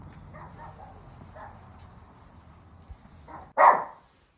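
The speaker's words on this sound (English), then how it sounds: "Sorry for the dog barking." Dogs indoors in a house: one barks loudly once near the end, after a few softer, muffled barks and yips in the background.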